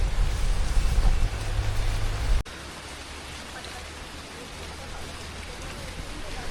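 Monsoon rain falls steadily during a trek toward Tung fort, giving a continuous hiss of drops on surfaces. It is louder at first, then drops abruptly to a softer, even patter.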